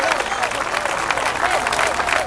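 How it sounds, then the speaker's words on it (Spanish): A church congregation applauding together after a call to praise the Lord, steady dense clapping from a crowd filling the whole moment without letup. "Denle un fuerte aplauso para la alabanza al Señor."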